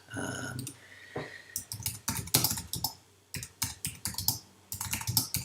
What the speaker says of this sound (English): So we start typing in text line 1